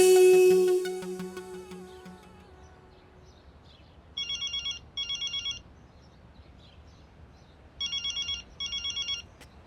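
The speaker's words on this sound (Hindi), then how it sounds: "ए जी, किसी का फोन आ रहा है, देखिए" A telephone rings indoors in two pairs of short electronic trilling bursts, fairly faint against a quiet room after a music cue fades out.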